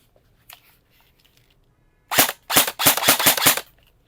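Airsoft HK416 rifle fired out of the box, two shots then a rapid full-auto burst of sharp, close cracks with a quiet lead-in.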